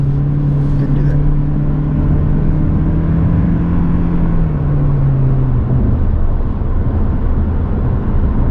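A 2023 Toyota Prius in sport mode accelerates onto a highway, a rising whirring engine tone that climbs then fades into steady road noise over continuous cabin rumble.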